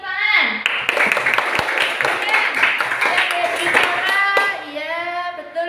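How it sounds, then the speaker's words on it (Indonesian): A classroom of young pupils claps hands together, a brisk, fairly loud patter of many small hands running for several seconds, mixed with children's voices and a teacher speaking over it. "Beri tepuk tangan."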